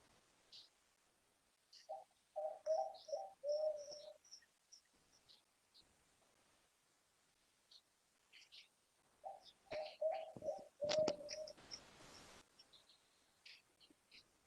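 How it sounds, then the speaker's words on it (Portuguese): A dove or pigeon calls in short rhythmic phrases, two bursts of repeated cooing notes separated by a pause, with a louder sharp noise near the end. "O que canta essa pomba aqui?"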